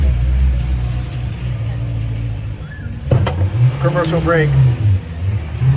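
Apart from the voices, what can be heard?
loud car engine without muffler passing by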